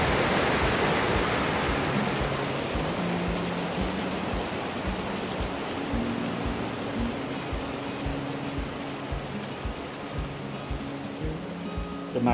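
A waterfall in the Brecon Beacons pours in a steady, broad roar of rushing water, constant and enveloping throughout with no voices.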